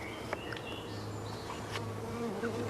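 Worker bees fly from the small entrance hole of a queen-rearing nucleus hive, giving a steady low buzzing drone with a few brief higher passes of individual bees nearby.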